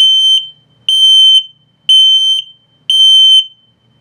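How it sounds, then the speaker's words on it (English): The low battery alarm of a 2022 Flagstaff Shamrock 235S RV, loud and shrill, beeps four times in a steady rhythm, each tone lasting about half a second, with nothing else audible between the beeps. "low battery alarm coming up"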